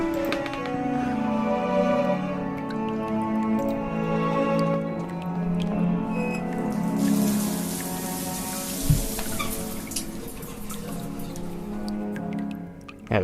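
Water dripping from a gutter into a puddle in The Last Door, a steady patter of rain and drips over a low rumbling storm, with one sharper splash partway through.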